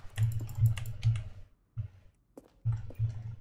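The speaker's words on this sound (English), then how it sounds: "Selection of sounds used throughout the game when buttons are pressed." A series of short, soft button-press clicks and dull taps in uneven bursts, separated by brief silences, like interface sounds from a game.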